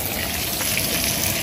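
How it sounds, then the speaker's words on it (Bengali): Potatoes frying in oil, a steady close crackling sizzle that holds evenly without a break. "আলুগুলো একটু বেশ ব্রাউন করে ভাজতে হবে।"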